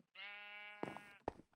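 A Minecraft sheep gives one long, close, wavering bleat, then two short sharp bleats, clear and alone against a quiet background.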